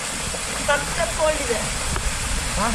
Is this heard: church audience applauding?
no